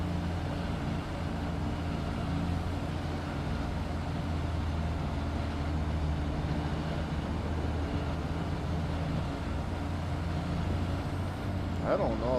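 A truck engine in Farming Simulator 22 idles or drives at steady low revs with a continuous rumbling drone, heavy and close, on a rainy, muddy Missouri farm map. Faint hiss and a short squeak come near the end.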